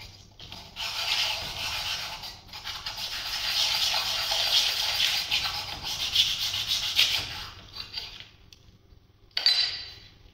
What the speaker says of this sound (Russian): начинаем шлифовку. Полировку.